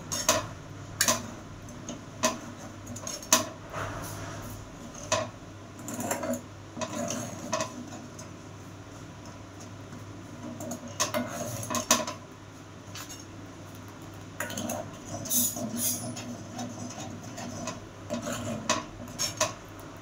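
Raw green mango is stirred into a cooking pot, with a spoon clinking and tapping against the metal in irregular bursts and quieter scraping in between, close and without speech.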